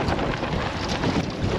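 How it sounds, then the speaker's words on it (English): Gusty wind buffets a sailboat, a broad, rough rushing roar that surges and drops in quick pulses, loud and close, with no voices. "It's like that's so gusty."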